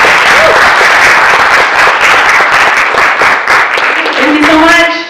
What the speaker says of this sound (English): give a round of applause to the panelists